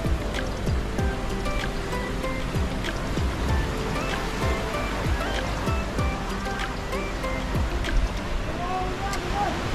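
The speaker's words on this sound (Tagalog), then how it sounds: "lakas ng alon" Strong ocean waves crash and wash around a rock formation in a continuous loud roar of surf, and a voice seems to talk faintly underneath.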